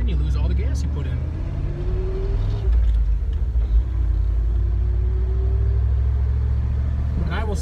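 A 1991 Chevy C3500 rollback tow truck with a 4-barrel carburetor setup running on the road, its engine giving a steady loud low rumble throughout while a person talks over it.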